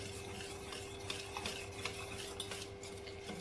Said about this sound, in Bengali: আবারও আমি ভালো করে মিশিয়ে নেব।